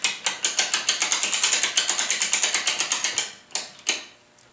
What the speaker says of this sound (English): click the ratchet to the other direction and unwind